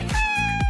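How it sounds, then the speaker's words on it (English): A cat meows in a single drawn-out call, close and clear, with harmonic tones held throughout and no talking over it. "That is a cat."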